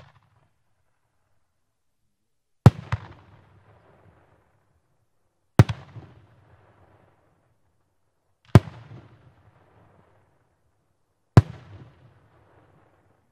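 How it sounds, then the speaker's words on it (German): Four 100 mm Saturn aerial firework shells burst one after another about three seconds apart, each a sharp loud crack followed by a brief crackling, rumbling tail, with quiet between the bursts and no talk. "Als letztes im Kaliber 100 mm auf Position 67 die Saturnbombe."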